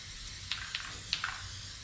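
Spray adhesive hissing from a can onto a car headliner, several short sharp bursts in a quiet interior with no talking.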